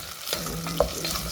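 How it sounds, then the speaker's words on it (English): Pilau rice ingredients being stirred in a pot, a brief scrape of the spoon over a soft steady sizzle, one sharper clink near the end, close and without talk. "Gonna stir all this together."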